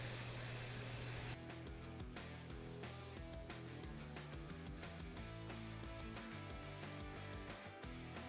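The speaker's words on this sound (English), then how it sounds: "I'm gonna start spraying the top and just kind of letting it, just kind of ghosting it on there." An aerosol can sprays gold paint over an epoxy resin world map art piece, giving a brief, faint hiss before fading into soft scattered clicking.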